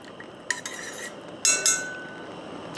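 A metal utensil stirs thickener into a roast chicken sauce, scraping and clinking against the pan in a few quick strokes, close and clear with a ringing tap near the middle, and no voices.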